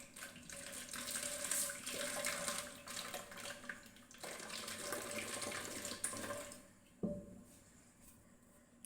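Water pours steadily into a container for several seconds, a close, even splashing flow that stops abruptly, followed by a soft clunk.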